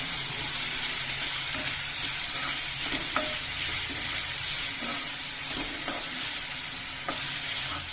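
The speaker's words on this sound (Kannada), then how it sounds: "ನೋಡಿ, ಈಗ ಚೆನ್ನಾಗಿ ಫ್ರೈ ಆಗಿದೆ." Tomato and spices frying in a pan for chana dal tadka, a steady loud sizzle with occasional stirring scrapes throughout, no voice.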